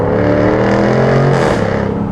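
Supercharged V8 of a 2024 Jaguar F-Type R75 revving loud and close, a deep growling roar that swells and then breaks into rapid popping pulses near the end, with no talk.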